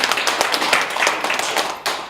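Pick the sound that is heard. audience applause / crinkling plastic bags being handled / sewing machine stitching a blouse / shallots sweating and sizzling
audience applause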